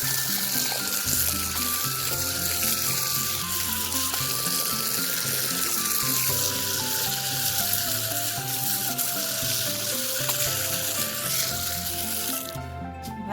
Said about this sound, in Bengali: এখানে একটা কল আছে, দাঁড়া দেখি এখানে জল পড়ে কিনা